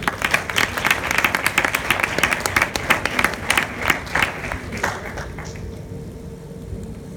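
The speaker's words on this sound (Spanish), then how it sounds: "Démosle un fuerte aplauso." Audience applause after a talk introduction at a presentation on work stress, many hands clapping in a lively patter that thins out and fades away over the last couple of seconds.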